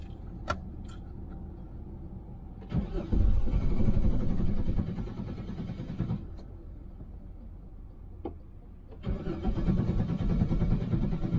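A Nissan Cube engine cranks and catches twice while the car rolls on a ramp, each attempt a sudden low rumble that holds a few seconds, close and loud, with faint clicks between.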